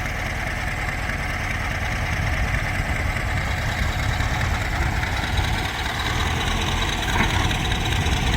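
A tractor engine runs with a disc plough in dry farm soil, giving a continuous heavy, knocking mechanical roar at steady loudness, with no talk.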